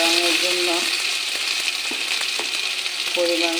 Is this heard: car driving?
no